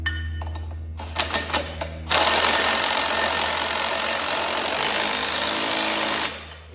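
An impact wrench drives in the back bolt of a rock trap on a 360 Bandit, a few short bursts followed by a long, loud, steady rattling run that stops abruptly near the end.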